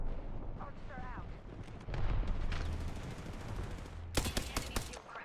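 Gunfire in the video game Apex Legends, with rumbling explosive booms and a sharp cluster of shots near the end, mixed with game sounds and a synthetic voice callout.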